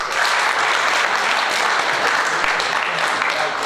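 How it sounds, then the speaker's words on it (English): Sustained applause from an audience at a law moot court competition, steady dense clapping filling the hall throughout, loud and near with a faint voice or two mixed in. "I think they deserve another round of applause"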